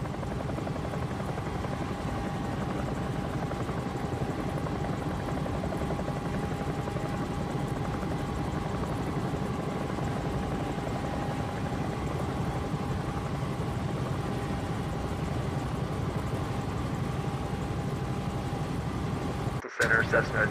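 A Bell 222 helicopter flies in a flight simulator, giving a constant loud rotor and turbine drone with a steady whine that runs unbroken to the end.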